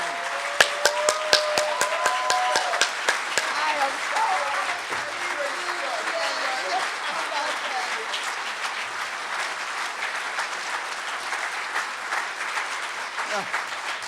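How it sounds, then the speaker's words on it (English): Warm audience applause welcomes the Reverend Dr. C.T. Vivian, a long, steady wave of clapping with crowd noise and voices mixed in, opening with a few sharp louder claps. "Let's give him another warm welcome of applause"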